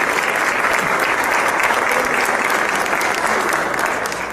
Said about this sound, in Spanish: un aplauso muy bonito para ella